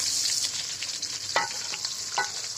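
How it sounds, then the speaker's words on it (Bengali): Pieces of hilsa fish fry in hot oil in a village kitchen, giving a steady bright sizzle with a few sharp stirring clicks and scrapes, close and without speech. "আমাদের মাছ ভাজা কিন্তু চলছে ইলিশ ভাজি"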